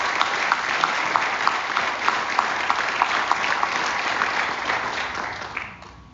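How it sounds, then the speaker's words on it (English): Audience applause at a high school awards night, a steady round of clapping with distinct individual claps that tapers off at the close. "So let's give her a round of applause for her."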